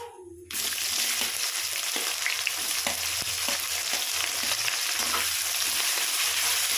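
Chopped onions fry with cloves and cinnamon in hot oil, a loud, continuous close-up sizzle that starts abruptly and carries light stirring clicks throughout, with no talking.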